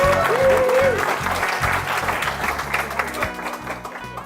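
An audience claps and cheers for a speaker at a talk, the applause dense and steady at first and gradually thinning, with a low rhythmic hum and a brief voice-like tone near the start.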